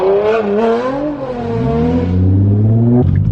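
A 900 hp Nissan GT-R accelerates hard, its engine note climbing through the revs, dipping briefly at a shift, then rising again into a loud, close, strained roar with a whining edge.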